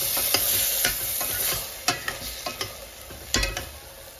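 Chicken for biryani fries in a pan with a continuous hiss, punctuated by several loud scraping stirs and knocks of a utensil, heard up close with no voices.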